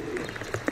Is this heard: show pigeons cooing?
yes